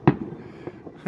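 New Year's Eve fireworks in Russia: sharp, booming bursts, one loud blast near the start and two more a moment later, with a faint crackling rumble between them.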